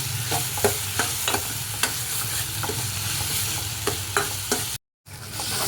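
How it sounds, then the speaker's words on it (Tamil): Onion, tomato, green chilli and garlic sautéing for sambar, with a steady close sizzle and repeated scraping stirs of a spoon in the pan, with a brief drop-out near the end. "இப்போ நல்லா வெங்காயம், தக்காளி, பச்சை மிளகாய், பூண்டு எல்லாமே வதங்கி வந்துடுச்சு."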